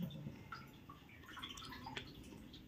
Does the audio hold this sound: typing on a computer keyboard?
no